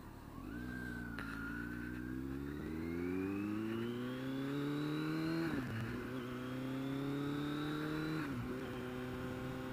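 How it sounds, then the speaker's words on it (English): A 2020 Kawasaki Z900 motorcycle exhaust revs loud and close, rising in pitch through several long climbing pulls with brief dips between, the engine note strong and continuous throughout. "I like that exhaust."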